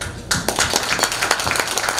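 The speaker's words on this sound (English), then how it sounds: "Let's again give us a round of applause." Audience applause at a Chinese American business association's seventh anniversary celebration in the Carolinas, a crowd clapping loudly and steadily in a room, with dense overlapping claps.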